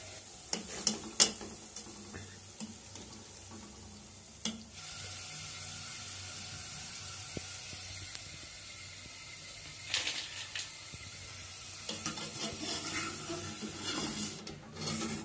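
Food sizzles and crackles steadily in a hot pan during tempering (tadka), with occasional clinks and stirring scrapes of a utensil against metal.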